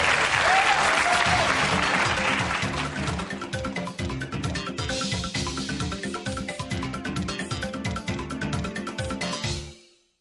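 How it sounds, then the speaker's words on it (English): Applause at the end of the first day of the Jim Rohn Leadership Event, a loud, dense crowd of clapping hands that stays steady for about nine seconds and then fades out, with a strong rhythmic low beat underneath. "let's give ourselves a big round of applause for a good first day"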